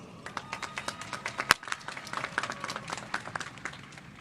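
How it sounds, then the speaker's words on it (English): Scattered, moderately sized applause from a high school graduation audience after the band's national anthem, individual claps distinct and uneven, with one sharp louder clap standing out. "Let's give them another round of applause."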